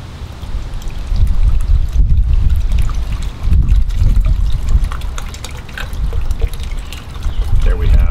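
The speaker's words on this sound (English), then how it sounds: "There we have what we sometimes refer to as a bubbler. Nice little spray of water." A small garden water feature bubbler sprays and splashes water continuously, a steady loud gurgling rush heard up close outdoors with brief dips.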